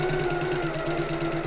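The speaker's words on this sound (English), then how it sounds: "sew to the top and back stitch again" A sewing machine runs steadily at close range while stitching a slip pocket for a tote bag, a continuous whirring hum with an even, rapid needle rhythm.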